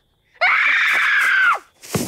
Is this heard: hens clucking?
no